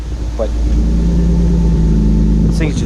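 Car engine idling on jack stands while being prepped for drifting, a low, steady hum with a faint harmonic drone, close and loud, with brief speech at the start and end.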